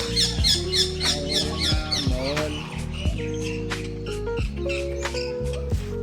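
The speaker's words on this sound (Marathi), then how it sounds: "हे बघ पोपट" A parrot gives a series of sharp chirps and squawks, close and loud, with some warbling calls over a busy background at the Buddhist caves in Sambhajinagar, India.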